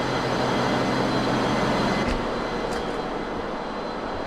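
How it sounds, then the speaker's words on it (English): A ship's main engine, number 2, runs in the engine room at sea, giving a loud, steady, close-up mechanical roar that fills the space without pause. "Right, main engine 2."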